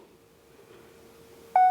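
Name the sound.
phone beep when turning on screen recording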